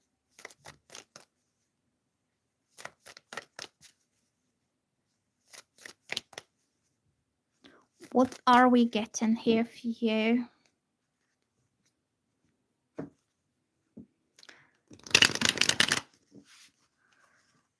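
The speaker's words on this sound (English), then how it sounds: "Let me shuffle some cards for content." Tarot cards shuffled in quick riffling bursts spread across the clip, close and crisp, with a louder sustained flurry near the end; a person talks in between.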